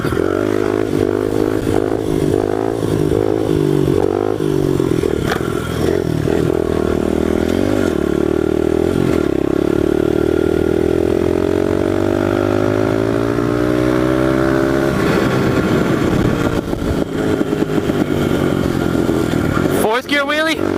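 A pit bike engine drones loud and close, its pitch climbing and dropping through gear changes with clattery mechanical rattle, a longer rising pull in the middle and a sharp burst near the end; a voice talks over it at times.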